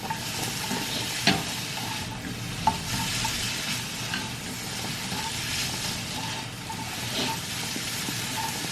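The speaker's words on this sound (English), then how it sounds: "So I sauteed it for like 5 minutes." Food sizzles steadily as it sautés in a pan at home, a continuous close frying hiss with occasional stirring clicks and scrapes, no talking.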